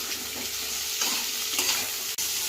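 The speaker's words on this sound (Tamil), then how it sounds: "எண்ணெய் ஊற்றி நல்லா வெங்காயம் வந்து நல்லா வணங்கணும்" Sliced onions sizzling in hot oil in a pan, a steady soft frying hiss with a few stirring scrapes and a brief clink near the end.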